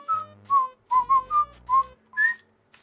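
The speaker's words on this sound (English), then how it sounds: "That was a rough whistle" Someone whistles a rough, off-pitch run of about seven short notes that rise at the end, heard close and alone without speech.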